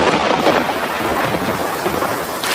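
Heavy monsoon rain pours down in a dense, constant hiss, with a rolling rumble of thunder underneath, loud and steady throughout the cartoon scene.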